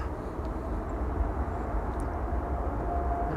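A Turkish Airlines Airbus A330 arriving at Schiphol Airport gives a steady, distant low roar of jet engines that holds evenly with no voices.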